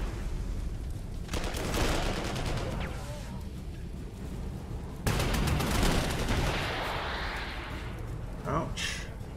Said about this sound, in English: Some artillery back there.